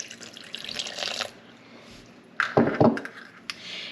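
Half a cup of water is poured into a sourdough sandwich bread dough mix in a bowl, giving short close splashing and trickling bursts with quiet gaps between.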